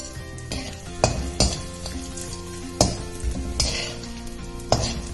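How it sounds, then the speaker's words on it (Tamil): Lumps of asafoetida frying in a little oil, a steady close sizzle punctuated by several loud metallic clanks and scrapes of a spoon against the pan at irregular intervals. "முதல்ல கட்டி பெருங்காயத்தை போட்டு நான் வறுத்து எடுத்துக்கலாம்."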